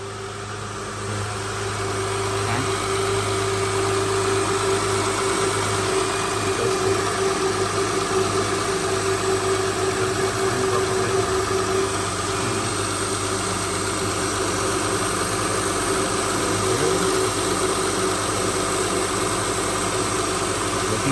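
A 2005 Honda Odyssey engine idles steadily after starting, a constant mid-pitched hum with a faint whine and light vibration, close and unbroken for about twenty seconds with no talking.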